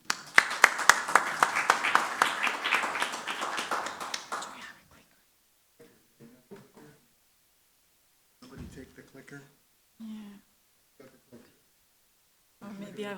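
Audience applause greeting a keynote speaker at a quantum computing conference, a dense burst of clapping for about five seconds that then stops, followed by sparse soft sounds and faint talk.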